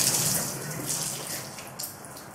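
Water poured from a bottle onto a person's hair to wet it before shaving the head, a close continuous splashing gush that trickles off, with no talking.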